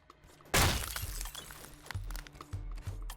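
A sharp glassy shatter bursts out in the CyberCorp video game. Scattered crackles and debris-like thuds trail off over a low hum.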